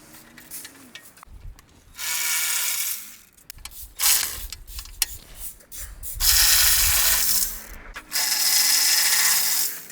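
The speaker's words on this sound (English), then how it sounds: "we're using a 40mm socket, deep socket, to take these with the long ratchet for torque" A long ratchet turns a 40mm deep socket to loosen motor mount nuts on a 2007-2017 Toyota Camry, giving loud, close bursts of rapid clicking ratcheting separated by short pauses and scraping metal.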